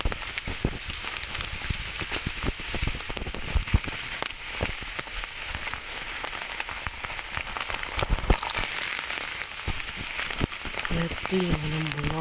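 Rain falls steadily outdoors in a dense, crackling hiss that runs through the whole stretch, with a person talking over it and a brief burst of sharper noise near the end.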